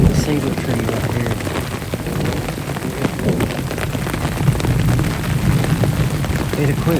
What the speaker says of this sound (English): It'll quit raining.